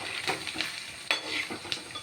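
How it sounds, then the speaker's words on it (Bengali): Pakoras deep frying in oil, a continuous close sizzle and bubbling broken by several sharp clinks and scrapes of a utensil against the pan. "এদিকে দেখো পকোড়ার লাস্ট ভাজা চলছে"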